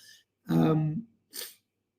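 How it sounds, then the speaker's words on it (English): Close, brief sniffling mixed with a throaty grunt from a person with a cold, heard as two short bursts separated by a pause, with no talking. "Sorry for me sniffling."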